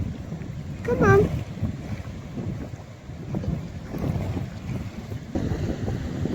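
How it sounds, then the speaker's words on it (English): Strong wind buffeting the microphone on a beach along the coast near Easington and Spurn Point, a rough fluctuating roar with a brief whistling tone near the start and distant surf underneath. "it's very windy here on the beach"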